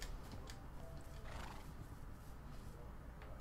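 Horse neighing with faint hoof clip-clop in the video game Minecraft, on the PS4 edition in hard survival mode, a short whinny heard under a steady background, quiet and somewhat distant.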